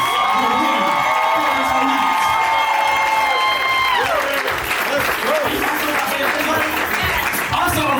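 Loud, sustained audience applause with cheering and whoops at a poetry slam, a dense crowd roar that swells and holds throughout.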